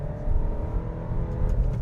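2025 Alfa Romeo Stelvio with a 2-liter turbocharged four-cylinder pulls hard under acceleration, a steady droning engine note with road rumble heard from inside the cabin.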